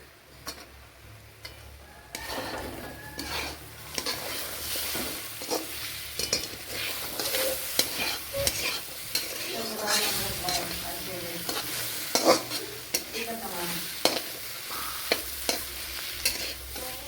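Chopped onions hit a hot pan for an egg dish, sizzling steadily while a spoon scrapes and stirs them in repeated sharp clicks and taps, close and fairly loud, with no talking.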